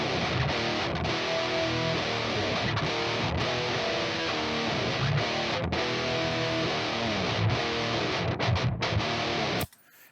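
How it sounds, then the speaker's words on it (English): A heavily distorted nu-metal guitar riff, two doubled takes played through an amp, chugs densely and loudly for about ten seconds before cutting off abruptly. "this was the main guitar sound throughout"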